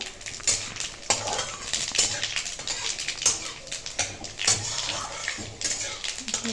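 Panch phoron spices sizzling in hot oil while making mango pickle, a steady crackling hiss with repeated sharp pops and spatters, close and fairly quiet.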